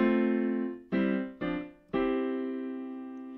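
An electric guitar plays the second lick of a song: four clear, close notes, the first held, two quick ones, then a long sustained final note that slowly rings out.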